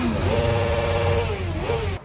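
Motorcycle engine from a pro bikers' team gathering, a steady droning exhaust note with a rising and falling pitch through the silencer, loud and close, cutting off abruptly at the end.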